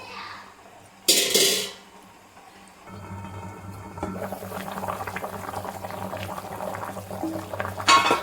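Fish curry (chepala pulusu) simmering in water in a covered pot: a loud clatter near the start, then a steady low bubbling and rumbling that holds through the rest of the clip.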